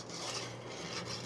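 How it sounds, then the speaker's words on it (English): A whisk scrapes briskly through rice pudding mixture in a pot taken off the heat, a short burst of steady close rasping and stirring. "So I'm just going to whisk that in quickly."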